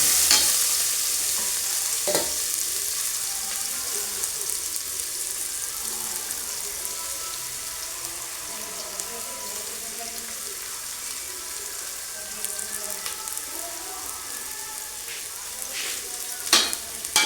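Onions are fried in a pan with cumin in the oil, making a steady, hissing sizzle that fades slightly over time, with a few brief clinks from stirring.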